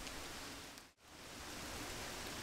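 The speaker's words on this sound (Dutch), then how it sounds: "Het begint ook een beetje te regenen." Light rain patters steadily outdoors as an even, soft hiss of drops, with one brief dip partway through and no talking.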